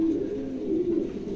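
A pair of Lahori pigeons cooing nearby, a low, continuous rolling coo that wavers gently in pitch and carries on steadily without pause, free of speech.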